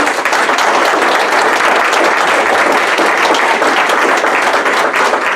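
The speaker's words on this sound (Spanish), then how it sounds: "Dale un aplauso." A Spanish-speaking church congregation bursts into loud, sustained applause, a thick unbroken roar of many hands clapping together for several seconds with no speech over it.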